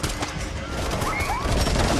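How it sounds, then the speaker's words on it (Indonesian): Gunfire in a film shootout on a bridge, a dense fusillade of overlapping shots with a steady, loud roar and several whistling ricochets. "baku tembak pun akhirnya terjadi"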